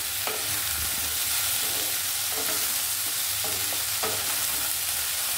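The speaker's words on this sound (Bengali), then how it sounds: "এবার একটু নাড়াচাড়া করে নিচ্ছি।" Potatoes and strips of spiny gourd (kakrol) fry in a pan with a steady close sizzle, while a spatula scrapes and stirs in several distinct strokes spread across the stretch.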